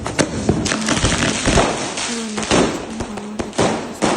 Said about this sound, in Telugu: కిందకి వెళ్ళి క్రాకర్స్ కాల్చుకున్నాను